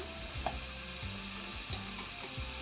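An 85/15 ground beef browning in a dry skillet over medium-low heat gives a steady close sizzle, with repeated low thuds and scrapes from a utensil breaking up the meat.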